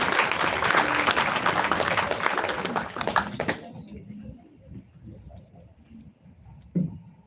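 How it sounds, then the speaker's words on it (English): Audience applause for conference speakers at a live-streamed event fills the first three and a half seconds, dense and fairly close, then drops away to quiet room noise with a brief knock near the end. "A round of applause once again for everyone that has spoken and made contributions"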